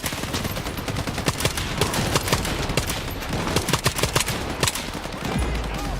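Rapid gunfire in a S.T.A.L.K.E.R. 2: Heart of Chornobyl firefight crackles in dense, steady bursts of overlapping shots, loud and continuous throughout, with no talk.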